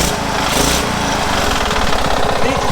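A small mini bike engine runs close up, a loud, steady buzzing idle with rapid, even firing pulses and a short burst of higher revs near the start.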